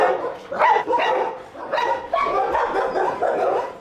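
A dog at the Gennevilliers SPA animal shelter lets out a quick series of close, loud barks and yips, with brief gaps between bursts.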